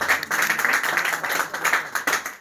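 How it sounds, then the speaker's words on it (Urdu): Crowd clapping at a cricket trophy award ceremony for the Hijazi Cricket Mela season 2, a lively patter of many hands that stays fairly loud throughout. "تالیاں"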